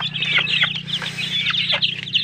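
Three-week-old chicks cluck and peep continuously at close range over a steady low hum, with no talking.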